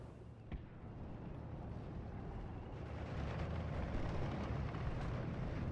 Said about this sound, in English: that's the recce actually going down to the mortar fire